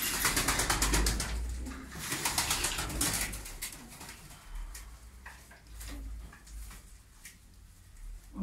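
Tumbler pigeons coo in a loft, soft repeated throaty calls mixed with shuffling, wing flutters and clattering, close by, loudest at the start and quieter afterward.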